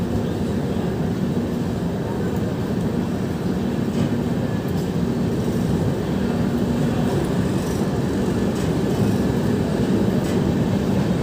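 A Humsafar Express train runs through Sonpur Junction without stopping, a steady loud roar of wheels and carriages rumbling continuously with no pauses.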